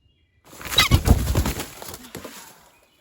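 A loud burst of harsh bird squawking close by, a rapid flurry of raucous calls that rises sharply and then tapers off.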